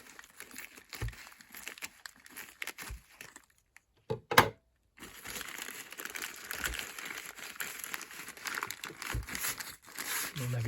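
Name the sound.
cutting open and crinkling a plastic parcel with blunt scissors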